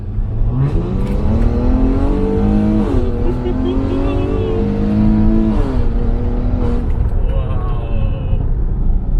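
A Maserati Quattroporte with a twin-turbo Ferrari-built engine and open exhaust valve accelerates hard, its loud engine note climbing through rising pitch sweeps with a shift partway through, while a person talks over it inside the car.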